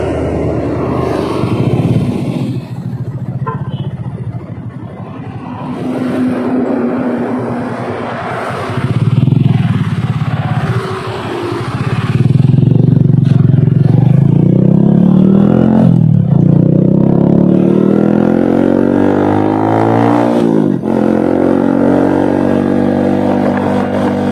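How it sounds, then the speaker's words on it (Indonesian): A Honda Supra 100 motorcycle fitted with a standard oversize Vario 125 piston is ridden, its engine droning loud and near, with pitch climbing through the gears and dropping at shifts. "motor Supra pakai piston Vario 125 oversize standar. Mari kita lihat perjalanannya."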